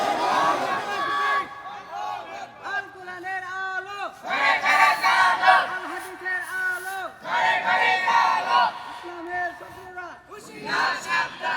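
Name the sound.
crowd shouting takbir (Allahu Akbar) in response to preacher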